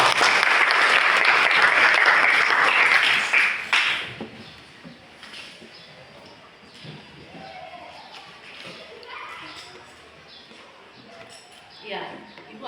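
Classroom applause during a school lesson on markets, loud and dense for about four seconds before cutting off, followed by quieter room noise with scattered voices and movement.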